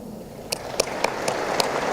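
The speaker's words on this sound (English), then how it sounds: "Where are your claps?" A festival audience at the Indiajoy 2021 digital entertainment event gives a short round of applause, a handful of distinct claps emerging over a murmuring crowd, fairly thin and scattered rather than a full ovation.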